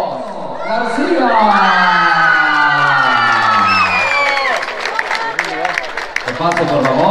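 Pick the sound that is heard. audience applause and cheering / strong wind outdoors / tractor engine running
audience applause and cheering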